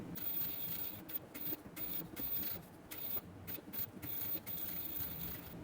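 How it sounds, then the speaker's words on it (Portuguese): A sewing machine runs a seam through fabric for a school pencil case, with steady mechanical whirring broken by short pauses between stitching runs, close and fairly quiet. "vamos passar uma costura exatamente em cima da linha"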